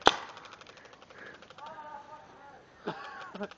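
Paintball guns fire in the woods, a few sharp cracks and pops among players' voices, with birds faintly in the background.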